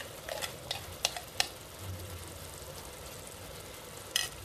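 A soft, steady sizzle of chicken and meat curry spice paste frying in a pan, with a few clinks and scrapes of stirring on top.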